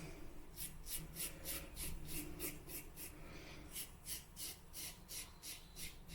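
Wilkinson Sword Classic chrome safety razor shaving, a close, steady series of rasping scrapes in a regular rhythm of short strokes across stubble, with no talk.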